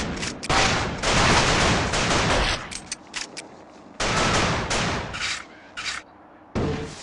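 Rapid gunfire bursts in the video game The Thing Remaster, loud dense volleys in two long stretches with short gaps and a final burst.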